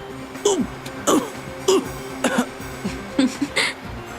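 A person coughs and clears their throat in a run of about seven short, close bursts, evenly spaced and fairly loud.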